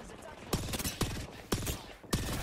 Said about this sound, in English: I'm gonna shoot for you guys.